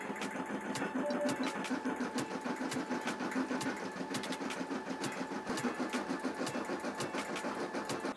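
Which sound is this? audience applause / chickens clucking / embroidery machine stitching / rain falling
embroidery machine stitching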